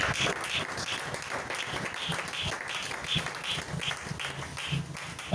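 Church congregation applauding to acclaim the king, steady loud clapping from many hands filling the whole room without a break, with a few voices faintly mixed in.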